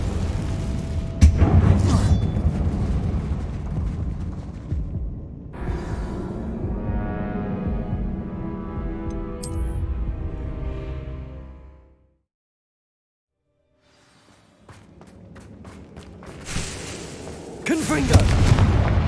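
Confringo blasting-spell explosions in the Hogwarts Legacy video game, with loud booming blasts and rumbling debris at the start and the end, separated by a stretch of near silence, with voices mixed in.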